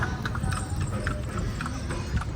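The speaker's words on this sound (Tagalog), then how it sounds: "We have a good ride with this horse." A horse pulls a cart along a boulevard, its hooves clip-clopping in a steady, even rhythm at moderate volume over a continuous background rumble of road and wind noise.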